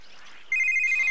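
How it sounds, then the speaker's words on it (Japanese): A mobile phone rings in the Japanese action game Kyoei Toshi (City Shrouded in Shadow), a steady electronic tone that starts halfway through, loud and close after a stretch of muffled background ambience. "あ、携帯だ。"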